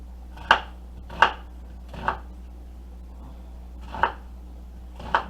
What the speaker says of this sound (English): when you out there chopping these onions